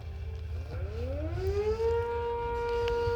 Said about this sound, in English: it sounds like that the 10V near the water tower is going off